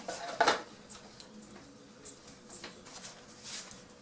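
A plastic bag is handled and twisted shut while baking cookies, with crinkly rustles, one sharp crackle near the start and softer scattered crinkles afterward, close and alone.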